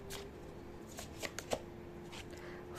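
Tarot cards being shuffled by hand, a few soft riffling snaps and slides at close range over a quiet room hum, with no talking.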